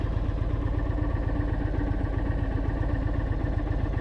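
An Indian Super Chief motorcycle that had been flooded idles steadily in sport mode, a loud, close, even pulsing engine rumble with no talk.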